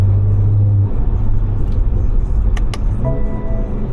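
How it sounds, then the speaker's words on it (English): A Stage 2 BMW 540 drives in the rain, its engine rumbling steadily up close with a downshift near the end, heavy low drone and wet road noise, no talking. "Oh, those downshifts sound so good."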